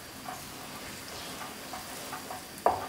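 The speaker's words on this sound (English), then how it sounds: "Get our sauce, creamy, almondy, yoghurty sauce paste in there." Creamy almond and yoghurt paste being stirred into sizzling chicken for pasanda: a low, steady sizzle with soft repeated stirring scrapes and one sharper clack near the end, no voices.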